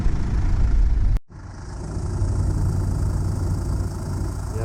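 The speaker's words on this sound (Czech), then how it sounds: "Jak motor je krásně tichoučkej." An off-road expedition vehicle's engine, fitted with a new belt and alternator, idles quietly with a low, even hum, briefly cutting out near the start before settling back into a steady drone.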